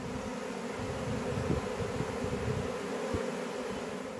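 A swarm of honey bees, apparently with its queen in the box, hums continuously outdoors near a tree and a hive box, a dense, steady buzz of many insects with no voices.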